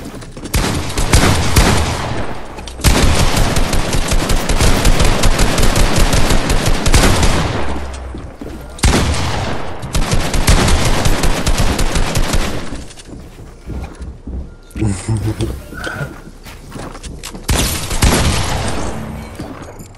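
Heavy Fortnite gunfire in long, loud bursts of rapid automatic shots, broken by short pauses, with a final stretch of more scattered shots and clatter.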